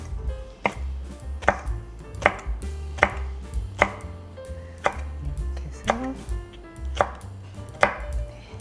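A knife chopping green onion and green and red chili peppers on a cutting board, about ten crisp, evenly spaced chops close up, with no talk.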